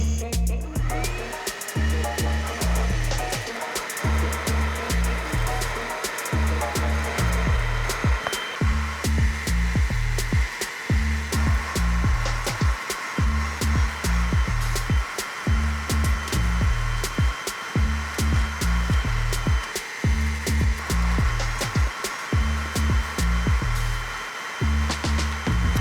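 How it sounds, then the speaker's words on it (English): A wet vacuum cleans the interior of a gutted camper van, a loud continuous whine broken by rhythmic pulsing as the nozzle is pushed back and forth, running close-up throughout with no talking. "I'm going to use the wet vacuum and clean the whole thing."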